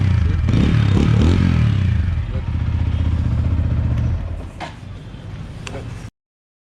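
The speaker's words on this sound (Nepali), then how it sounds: "साउन्ड पनि धेरै राम्रो छ, लाइक स्पोर्ट्स बाइकहरूको जस्तो धेरै राम्रो छ।" A 2021 TVS Apache RTR 200 4V BS6 motorcycle engine runs loud and close, with a heavy low rumble that eases to a steadier idle, accompanied by some clatter.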